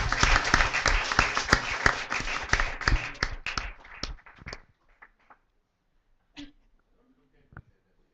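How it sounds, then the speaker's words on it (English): A church congregation in Sharjah claps in applause, a loud, dense burst of many hands that thins out and fades after a few seconds, leaving scattered faint sounds in near silence. "Let's give him a big round of applause."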